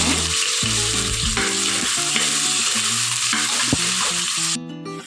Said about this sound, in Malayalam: അതൊന്ന് ചൂടാകുമ്പോൾ അതിലേക്ക് ഒരു ഉള്ളി ചെറുതായിട്ട് അരിഞ്ഞത് ഇതിലേക്ക് ഇടണം